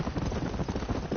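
Horse hooves clip-clopping in the video game Red Dead Redemption, a brief burst of rhythmic muffled hoofbeats over low rumbling ambience.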